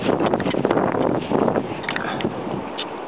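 Wind rushing over a ski slope, a steady moderate roar of gusts buffeting the microphone with faint rustling and no voices.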